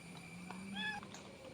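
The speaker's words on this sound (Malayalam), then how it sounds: "ഇതൊക്കെ അടുത്ത വീട്ടുകാരെ പൂച്ചാണ്," A pregnant neighbourhood cat gives one short, faint meow at a distance against a soft background hum, with no talking.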